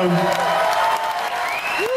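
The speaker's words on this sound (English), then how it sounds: "They deserve more rounds of applause than they get." A concert crowd at a show at Minneapolis's Uptown Theater applauds the touring crew, a dense continuous wash of clapping with cheers and whistles rising over it.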